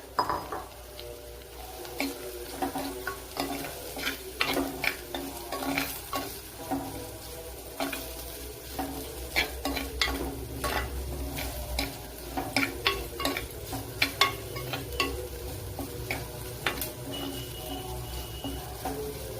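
Spicy, finely cut green chillies sautéing in a pan for fish chops, a continuous sizzle broken by repeated spoon scrapes and clinks against the pan.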